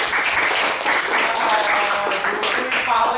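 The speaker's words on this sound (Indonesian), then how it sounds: "Tepuk tangan buat Jupri" A classroom bursts into steady, enthusiastic applause, many hands clapping together for a few seconds with some voices mixed in.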